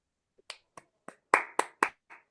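A handful of separate claps, eight of them spaced irregularly at first and then coming faster. Each one is sharp and close, alone with nothing behind it.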